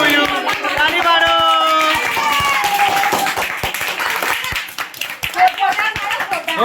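People clap along at a birthday celebration, with rapid uneven handclaps close by under singing and lively voices.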